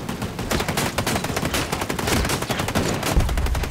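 Automatic turret fires continuously in Ghost Recon Breakpoint, a dense, loud, rapid machine-gun rattle with no talk over it.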